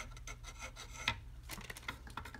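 Moving part of an Idle Tyme clock rubs with a soft, continuous rasping scrape, close and fairly quiet, with a brief brighter scratch near the middle and a few smaller catches afterward.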